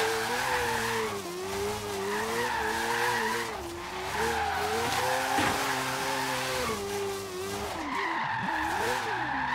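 A car drifting in Forza Horizon 3 gives a continuous loud tire screech that wavers in pitch over a droning engine, with no break across the whole stretch.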